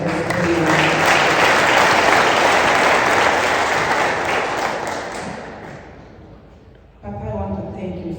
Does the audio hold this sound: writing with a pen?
no